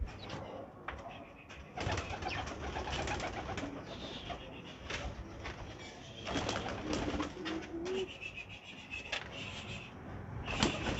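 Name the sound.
pigeons released from their coop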